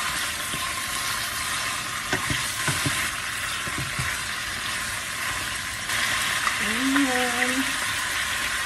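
Chicken and ginger fry in hot oil for a Filipino chicken tinola, giving a steady sizzle throughout with a few stirring clicks and a short whistling tone near the end.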